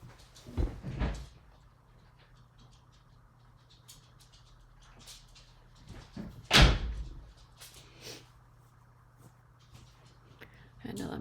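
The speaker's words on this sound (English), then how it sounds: "I had to let my dog in. She was scratching at the door." A door is opened to let in a dog that had been scratching at it, giving one sharp, loud clunk amid soft shuffling and faint patter in an otherwise quiet room.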